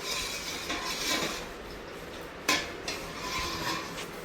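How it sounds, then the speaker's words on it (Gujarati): Gulab jamun stirred in a pot as the sweets are finished, giving soft continuous scraping and sloshing with a sharper clink of utensil against metal midway, alone with no voices. "ગુલાબજાંબુ બનીને રેડી થઈ ગયા છે અને હલાવ્યા કરવાના."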